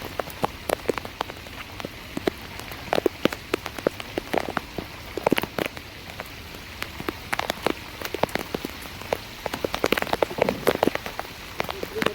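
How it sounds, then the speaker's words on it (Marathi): Heavy rain pours steadily, drops pattering and splashing constantly on a hard surface. "काय पाऊस लागला एक नंबर"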